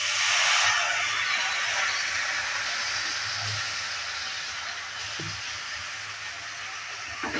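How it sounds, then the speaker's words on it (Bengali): Chopped cabbage added to spices frying in a pan, a broad sizzling hiss that flares loudly at first and then settles into a steady, slightly softer fry. "এবার দিয়ে দিচ্ছি কেটে রাখা বাঁধাকপি।"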